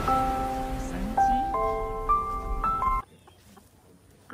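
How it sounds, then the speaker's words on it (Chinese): Pheasants at a leisure farm in Tainan give a series of loud, tonal clucking and squawking calls for about three seconds, rising in pitch, after which only faint background ambience remains. "哇，这里好多的山鸡"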